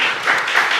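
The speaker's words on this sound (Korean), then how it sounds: "박수." Church congregation at a festival worship service claps together in a short burst of dense, close applause, loud and continuous for under a second.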